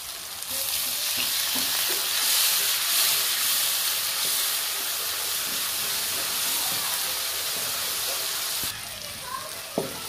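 Steady loud sizzling from a hot pan after a little water hits chilies and turmeric, a broad hiss with faint stirring clicks, easing off near the end.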